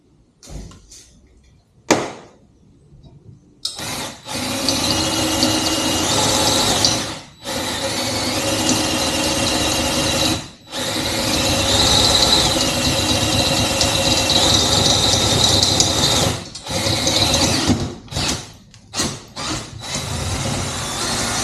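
Power drill boring through the hollow aluminum swing arm tube of a Razor scooter, a loud grinding whine with ratcheting bite, running in long bursts broken by brief pauses.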